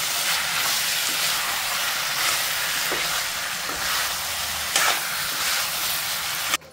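Chicken and potatoes cook in a pot, giving a steady close hiss and sizzle with a few scraping knocks as they are stirred, and no voices.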